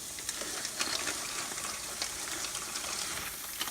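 Water bubbles and roils at a rolling boil, a continuous noisy hiss with small irregular pops.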